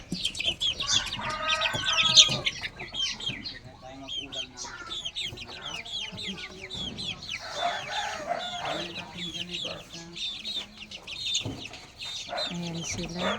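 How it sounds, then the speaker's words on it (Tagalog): Chickens and small chicks on a rural countryside farm cluck and peep steadily throughout, with scattered rooster crows, mostly close and continuous, while a voice speaks now and then. "At ito naman yung mga sisiw."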